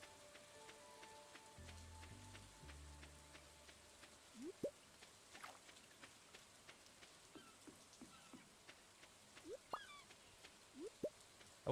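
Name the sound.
rain in the video game Stardew Valley Expanded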